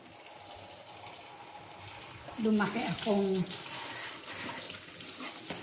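Water runs from a tap into a kitchen sink during dishwashing, a steady splashing rush under a voice speaking briefly.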